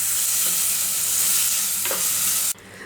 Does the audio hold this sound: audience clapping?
no